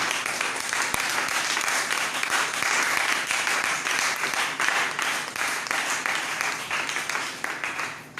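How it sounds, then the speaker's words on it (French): A church congregation applauds steadily for about eight seconds, a dense, loud, continuous wash of many hands clapping together without letting up. "Si quelqu'un m'a compris, qu'il acclame le Seigneur."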